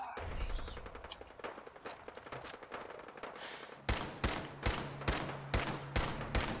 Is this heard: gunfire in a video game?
yes